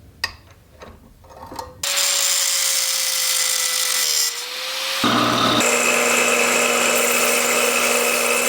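Power tool cutting down motorcycle brake mount bolts on a Grom, a few knocks and then a loud sustained grinding whine that shifts pitch partway through.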